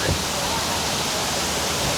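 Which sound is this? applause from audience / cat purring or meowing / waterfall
waterfall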